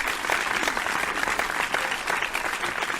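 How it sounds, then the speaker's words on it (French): A room full of guests at a reception claps steadily, a dense even patter of many hands heard close and without pause, with faint crowd murmur beneath. "Je vous invite à applaudir très fort"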